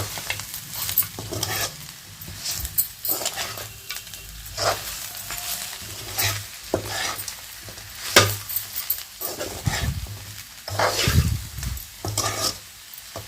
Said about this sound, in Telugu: ఇలా మొత్తాన్ని ముక్కలన్నిటికీ మసాలాలు పట్టేటట్టు ఇలా ఒకసారి ఫ్రై చేసుకున్నాను